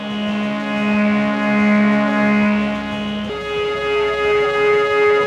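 A sustained synthesizer chord from a Synthesis Technology E300 Ultra VCO through a CS-80 filter prototype holds steady with a slightly detuned, beating tone, then shifts up an octave partway through, continuous and fairly loud.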